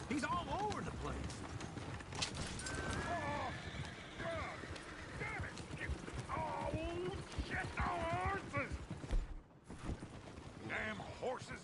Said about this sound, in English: Damn horses!